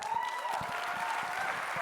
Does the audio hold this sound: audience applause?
yes